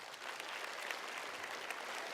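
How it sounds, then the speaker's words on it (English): A crowd claps for an audience volunteer coming forward, a brief, fairly quiet, even burst of applause. "Big round of applause."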